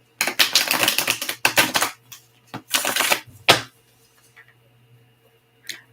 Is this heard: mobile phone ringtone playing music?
no